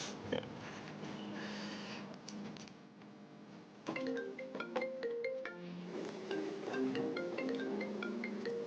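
A phone rings with a melodic tone of repeated short chiming notes, moderately loud and close, starting after a brief muffled stretch and continuing steadily to the end.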